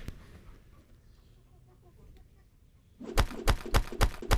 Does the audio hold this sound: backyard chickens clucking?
yes